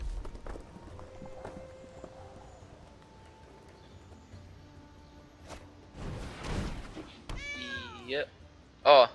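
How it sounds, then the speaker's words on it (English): A tiger character in a Ravnica Allegiance digital card game draft gives a short, bright meow near the end, after some clicks and quiet game sounds with brief talk. "The tiger meowed at me."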